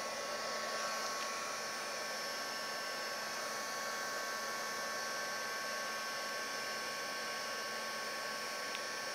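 A heat tool blows hot air over embossing powder on a craft background, giving a continuous whirring hiss with a fan whine that stays steady and close throughout.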